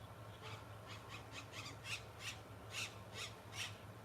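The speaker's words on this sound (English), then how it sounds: "We're gonna hear the birds together for a good minute." Birds calling outdoors in nature, a series of faint, evenly spaced high squawking calls repeating about every half second over a steady low background hum.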